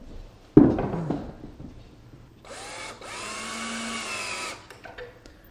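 A power drill runs in a sustained whir for about two seconds, driving a short one-inch pocket hole screw into wood trim, preceded by a sharp knock and a few faint clatters, with no talk.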